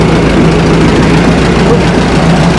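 Minneapolis Moline tractor engine idling outdoors, with a loud, steady low rumble throughout and no clear change in pace.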